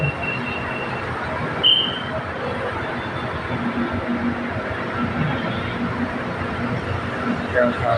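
A BTS Silom line skytrain at Saphan Taksin station, a steady rumble and hum of the train at the platform with a brief squeal, while a recorded announcement plays over it.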